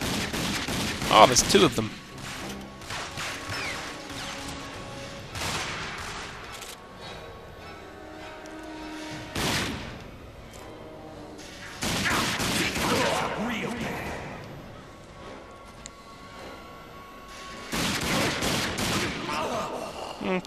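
Gunfire in the video game Rage: repeated loud bursts of shots in close quarters, separated by quieter stretches, with someone talking between the volleys.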